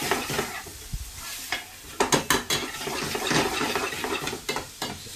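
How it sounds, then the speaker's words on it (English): Two medium onions stirred in a hot sizzling pan for chicken tikka masala, with steady frying hiss and a series of scraping utensil strokes against the pan, close and without talk. "Just stir this."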